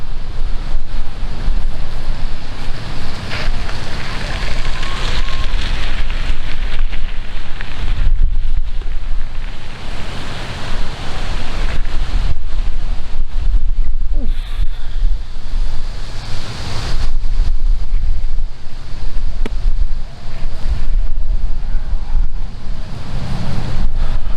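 Strong wind buffets the microphone on an outdoor disc golf course, a loud, constant roaring rumble with gusty surges that continues without a break and drowns out everything else, with no talking.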